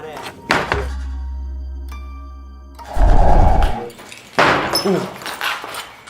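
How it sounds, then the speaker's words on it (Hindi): A door in an eerie abandoned building swings shut, giving a heavy thunk with a low rumbling resonance midway, followed by further knocking and rattling; loud and close, with a deep hum earlier. "भाई ये दरवाज़ा फिर से खुद से बंद हुआ क्या?"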